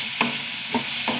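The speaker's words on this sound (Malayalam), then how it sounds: "തക്കാളി നന്നായി വഴണ്ട് വരട്ടെ." Tomatoes sautéing in a clay cooking pot as a spoon stirs them. Three distinct scraping strokes come over a soft, steady sizzle, close and fairly quiet, with no talking.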